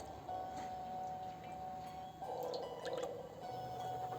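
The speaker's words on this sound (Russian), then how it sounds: "Теперь наливаю в казан около 100 мл загирного масла, то есть льняного, и около 600 мл растительного масла." Linseed and vegetable oil pour into a kazan for plov, with a faint steady trickle and soft dripping close by.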